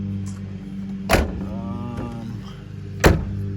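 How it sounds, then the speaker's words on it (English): The rear hatch of a Honda Civic EG hatchback is pushed shut, giving two solid, nearby thuds about two seconds apart over a quiet background. "Closing the hatch."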